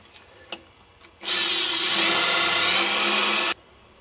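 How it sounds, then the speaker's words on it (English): A power drill boring a hole into a brick for a plastic plug, a couple of faint knocks, then a loud, steady whining grind of about two seconds that cuts off abruptly. "I'm just going to drill the hole the same depth as the length of the plastic plug."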